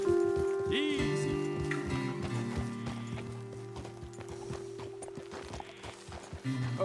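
Horse hooves clip-clopping at an easy walking pace during a ride in Red Dead Redemption 2, with a steady rhythm of hoof falls alongside other game ambience and brief tonal sounds.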